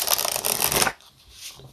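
A deck of Pining Rose Love Oracle cards is shuffled briskly up close, a dense riffling flutter lasting under a second, then stopping into near quiet.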